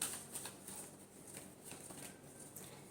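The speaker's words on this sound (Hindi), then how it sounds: "Last shuffle." Tarot cards being shuffled by hand in a quiet room, a soft continuous riffling and papery brushing with faint crisp flicks, close and low in level, with no talking.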